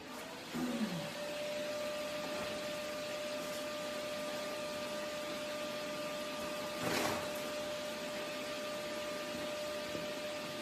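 A Miller Thunderbolt 210 DC stick welder switches on and runs with a steady fan whir and a constant electrical hum, fairly close, with a short burst of noise partway through.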